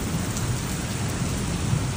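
Torrential rain pours in a dense, steady hiss during a thunderstorm with lightning in Tokyo, loud and close, with no talking.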